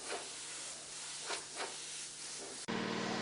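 Airbrush spray gun laying down pearl paint, a steady airy hiss with a few brief bursts, ending abruptly as a different tone cuts in.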